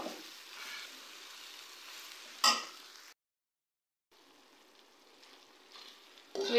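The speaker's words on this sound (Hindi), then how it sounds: "5 मिनट तक हम इन्हें हाई फ्लेम पे भूनेंगे" Okra (bhindi) stir-fried on high flame hisses softly in a pan, broken by a sharp scrape, a full second of silence, then faint sizzling again with a louder stir at the end.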